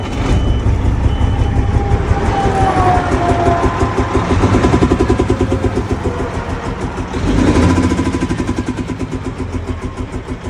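The damaged work truck's engine, suspected of an engine brake or injector fault, runs loud and close with a rough, rapid rhythmic pulsing that swells near the end.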